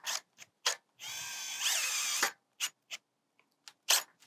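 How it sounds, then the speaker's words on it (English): A power driver sets 3/4 inch screws into the hinge of a roof vent with polycarbonate glazing: one short whirring run of the driver, framed by clicks and clunks of handling at close range. "Now with those screws that you got, the longer 3/4 inch screws, we're gonna put them through this hole"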